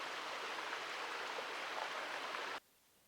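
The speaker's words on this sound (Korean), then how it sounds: "계곡을 청명한 물소리가 메우고 있습니다." A clear mountain stream in a valley beside an old stone pagoda in Uiseong rushes with a steady, dense hiss of flowing water that cuts off abruptly near the end.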